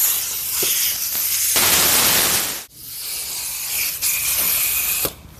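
Compressed air from an airline blows down a machine during a winter service clean-down: loud, sustained hissing blasts with brief gaps between them, close and alone.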